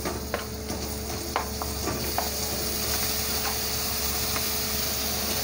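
Vegetables for a potato and pumpkin curry being stirred into browned masala in a pan, with a steady sizzle and occasional scrapes and clinks of the spoon, close and fairly loud, no talk.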